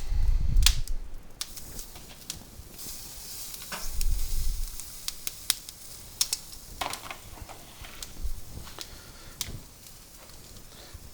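Sticky spare ribs sizzling on a lump-charcoal grill cranked to 450 degrees, a steady faint crackle and hiss with scattered sharp pops and a few low thumps as the meat is laid on.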